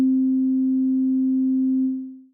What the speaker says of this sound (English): A sine wave looks like this and sounds like this.